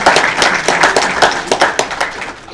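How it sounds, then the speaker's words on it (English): Close, loud clapping from a small audience gathered in a high school for a basketball signing, distinct sharp claps in an uneven rhythm that gradually taper off toward the end. "so please give him a round of applause."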